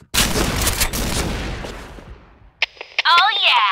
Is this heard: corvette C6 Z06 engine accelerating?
no